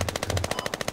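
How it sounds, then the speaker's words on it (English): Rapid automatic gunfire in the military shooter video game Squad Ops, a fast burst of roughly a dozen evenly spaced shots, close and loud, with no talk. "Taking fire from the radio tower."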